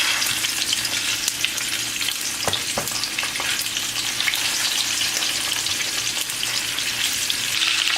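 Oxtail pieces fry in hot oil in a skillet, with a steady, dense sizzle and crackle running throughout, close and loud, broken by a few sharper pops and spits.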